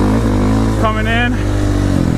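A motorcycle engine revs hard while being ridden through a sliding turn, a loud steady drone that rises in pitch, with wind noise and a voice over it.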